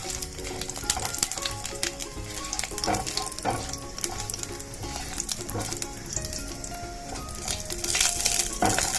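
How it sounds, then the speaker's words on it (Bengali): Whole spices tempering in hot oil splutter and crackle as winter vegetables for a Bengali moong dal are stirred in the pan, with busy popping, sizzling and intermittent scraping throughout. "ফোড়নটা একটু ফুটে গেলে আমি সবজিগুলো আস্তে আস্তে নেড়ে নেব।"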